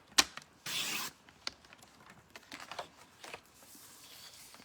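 Red cardstock being cut for card fronts, heard as a few close dry snips and rustles with one longer scraping slice, quiet and without speech.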